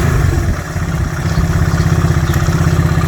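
A classic Honda CB125/CB360 motorcycle engine runs close and loud, its steady, pulsing mechanical beat swelling briefly as it is revved.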